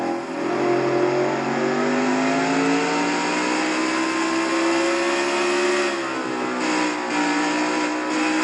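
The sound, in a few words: stock car accelerating in fourth gear at Road America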